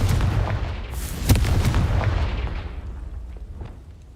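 A Confringo fire spell blast in the Hogwarts Legacy video game, a loud booming burst with a sharp crack near the middle, over a heavy rumbling roar that slowly fades away.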